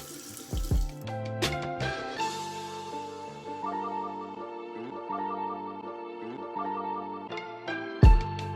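A bathroom tap runs while a razor is rinsed after shaving, with water gushing and splashing into the sink, punctuated by brief knocks at the start and end, no talk.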